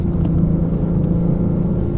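A car pulling hard under acceleration on a test drive, with a steady, loud low engine drone and a sustained mid-pitched hum throughout, heard from inside the vehicle with no talking.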